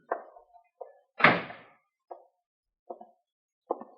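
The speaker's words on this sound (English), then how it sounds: "You men stay outside and close that door." Door closing as a radio drama sound effect in a 1956 Gunsmoke western episode: one loud thud stands out among scattered short muffled knocks and creaks, with no talk.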